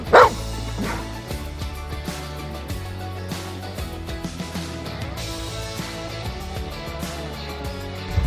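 Pet dogs bark repeatedly at bath time, sharp yips and bow-wows close by over steady background sound, loudest at the start and recurring throughout.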